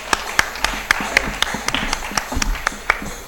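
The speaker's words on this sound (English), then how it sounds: "Amish Tripathi, a big round of applause." Audience at the WEF 2019 gala inaugural applauding to welcome author Amish Tripathi, scattered sharp claps in an irregular patter, fairly thin and moderately loud.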